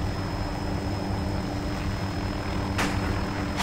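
A military helicopter in ArmA 2 running nearby, a loud continuous rotor and turbine hum with a steady whine, no talk.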